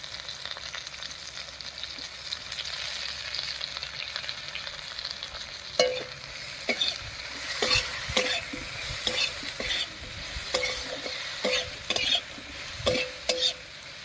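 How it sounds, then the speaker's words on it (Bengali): Fried potatoes and eggplant, seasoned with salt and turmeric, are stirred in a hot pan with a steady sizzle underneath and intermittent scraping, clattering strokes of the spoon, close by, with no talking. "হলুদ আর লবণ দিয়ে সব কিছু খুব ভালো করে মিশিয়ে নিয়েছি"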